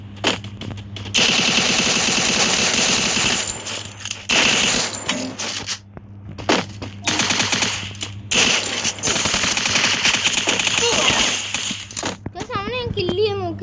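Rapid UMP submachine gun bursts in a shooter game, loud and dense, with short gaps between strings of shots over steady game background noise.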